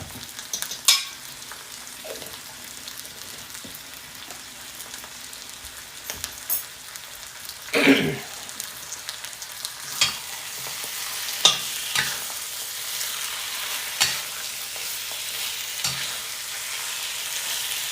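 Minced garlic sizzles in a cast iron pan during a stir fry, a steady crackling hiss broken by occasional scraping stirs and clinks, close up with no talk.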